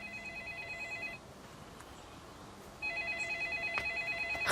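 A telephone rings with a warbling electronic trill in two bursts separated by a short pause, clear and moderately close in a quiet room.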